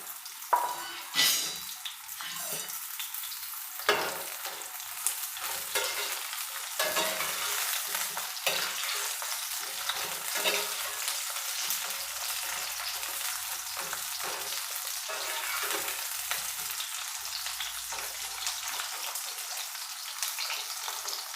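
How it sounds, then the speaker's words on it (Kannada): Cut brinjal pieces fry in hot oil for a brinjal and potato curry, giving a continuous loud sizzle with occasional stirring clatters throughout. "ಎಣ್ಣೆ ಬಿಸಿ ಆಗಿದೆ ನಾನು ಈಗ ಬದನೆಕಾಯಿ ಕಟ್ ಮಾಡಿರೋ ಬದನೆಕಾಯಿನ ಎಣ್ಣೆಗೆ ಸೇರಿಸ್ತೀನಿ"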